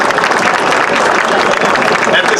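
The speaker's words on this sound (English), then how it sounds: "Let's have another round of applause for Mayor Pat Kramer." A large audience applauds Mayor Pat Kramer at a Paterson Great Falls National Historical Park ceremony, a loud, dense, steady wash of clapping throughout.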